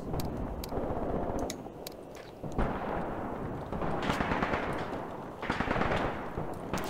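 Sustained battlefield barrage from the Graviteam Tactics war game, with artillery salvos rumbling continuously and sharp crackling bursts erupting on top, swelling in several waves of dense, loud firing without any voices.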